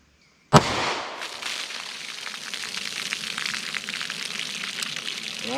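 A 10mm Speer Gold Dot 200 grain round fired into a pack of baloney: one sharp, loud gunshot, then a long ringing, crackling wash of echo and debris that lasts several seconds.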